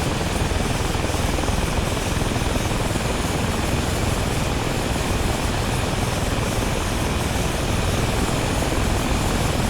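Inside an A-29B Super Tucano flight simulation, the turboprop engine runs after a cold start with a loud, constant propeller drone and whine, steady and unbroken throughout.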